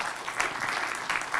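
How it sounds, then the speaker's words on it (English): Audience at a conference applauds the panelists, a dense steady wash of clapping that fills the room throughout, moderately loud and fairly close. "So please, a round of applause for them."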